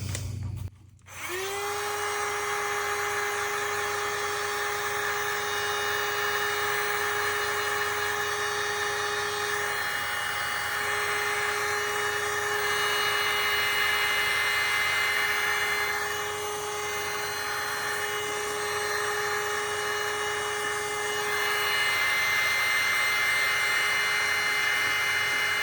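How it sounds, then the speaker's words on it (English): A heat gun blows over freshly poured resin in a coffee cup shaker mould, giving a loud steady whine and rushing airflow that runs nearly unbroken after a brief click at the start. "So I'll just use my heat gun to pop any bubbles in here"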